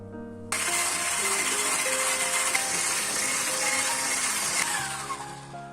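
An electric hand mixer beats 300 grams of sugar with vanilla sugar for Easter bread (paska) dough. It starts suddenly and holds a loud, steady whirring drone near the bowl. Pitch shifts slightly as it works, and no one speaks.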